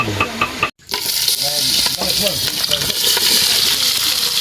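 Food frying in a pan gives off a loud, steady sizzle and crackle, broken by a brief pause near the start, while people talk over it.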